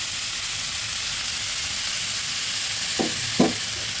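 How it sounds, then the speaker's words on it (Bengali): Ash gourd and shrimp stirred in a pan after water goes in: a steady close hiss of simmering with two short scraping stirs near the end. "ভালোভাবে নেড়ে দিচ্ছি"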